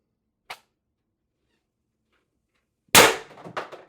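An Umarex TR68 Gen 2 .68 marker, fired with a gas tank, sends an 8-gram ART S-type shaped round: one sharp loud crack with a brief trailing rattle, preceded by a small click, with no talk.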